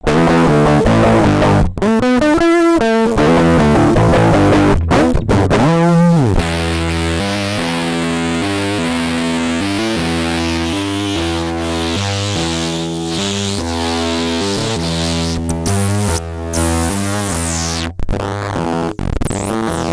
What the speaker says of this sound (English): sometimes it's adding sounds, sometimes it's processing the sound, whole bunch of different kinds of distortion